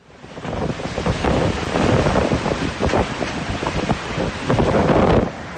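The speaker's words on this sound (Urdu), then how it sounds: "عجمان میں شدید ہوائیں چلیں" Strong storm winds in Ajman, UAE, roar in heavy continuous gusts with buffeting rumble and surging hiss, loud and close throughout with no voices.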